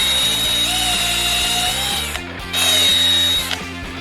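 A power drill spins inside a pen tube to clear out excess super glue, a loud steady motor whine with rhythmic grinding pulses that briefly drops off mid-way, then starts up again.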